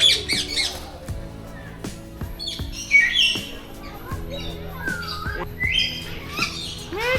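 Parrots in an aviary at Gazipur Safari Park squawk and screech repeatedly, harsh calls layered close by with other chirping birds and a faint voice in the background.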